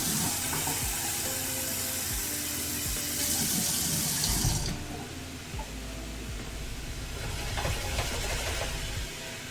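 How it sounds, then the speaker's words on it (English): Tap water running into a warm pan while cooking, a loud steady rushing hiss that shifts in tone midway, with faint clatter in the background. "Add a bit of water,"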